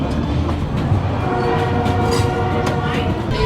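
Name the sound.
train riding on rails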